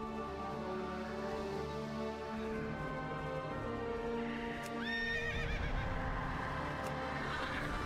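Horse neighing with hoof clip-clops in World of Warcraft, set in the Western Plaguelands; a steady loud game soundscape with a sharp whinny rising near the end over continuous hoofbeats.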